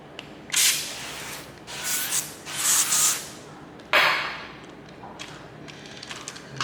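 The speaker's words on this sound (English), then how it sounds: "I'm gonna now spray these with some avocado oil" Avocado oil spritzed from a spray bottle onto moose steaks, several short hissing bursts in quick succession with soft handling thumps and taps between them, close and fairly quiet.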